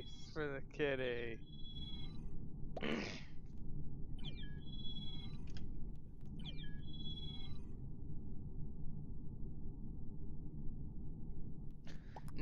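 A cat meows indoors, a couple of clear calls near the start followed by fainter, brief chirps, over a constant low background hum with people talking quietly.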